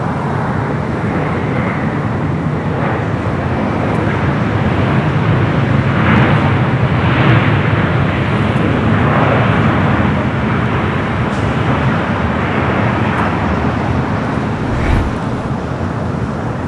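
A Boeing 777 freighter arrives at LAX, heard as a steady, broad roar of jet engines blended with wind and distant traffic rumble, continuous and fairly loud throughout.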